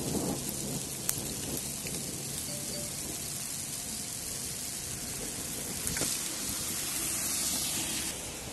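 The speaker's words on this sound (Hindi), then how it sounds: "बारिश बहुत ज़बरदस्त हो रही है।" Heavy rain pours steadily during a thunderstorm under a tree near Drung, Tangmarg in Kashmir, with dense hiss and rumbling thunder, including a sharp crack near the start and another around the middle.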